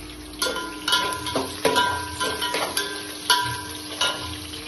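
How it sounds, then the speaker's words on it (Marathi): Green chilies added to onions frying in a pan: a continuous sizzle with a series of sharp spatula scrapes and clinks against the pan at an irregular stirring rhythm, close and fairly loud. "कांदा झाल्यानंतर लगेच मिरची टाकूया आपण, हिरवी मिरची।"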